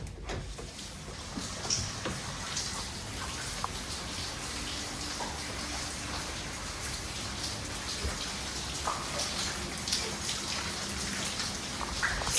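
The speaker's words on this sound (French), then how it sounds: "Il pleut toute la journée." Heavy rain falls steadily on Nusa Penida, a dense, continuous patter of drops striking surfaces nearby with no letup, no voices present.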